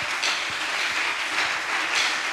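A church congregation applauding, a dense steady wash of many hands clapping together throughout, fairly loud and even, with no voices on top.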